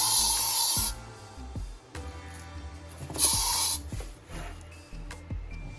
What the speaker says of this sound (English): So let's spray it again for safety.